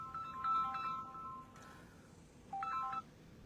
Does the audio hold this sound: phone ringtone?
yes